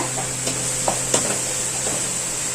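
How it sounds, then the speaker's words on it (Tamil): Food sautés in oil in a pan while a Sunday fish curry and fried fish are prepared at home, a steady hiss with a few faint scrapes of a spoon, close and even, no talking. "இந்த பக்கம் ஒரு பக்கம் நல்லா வதங்குது."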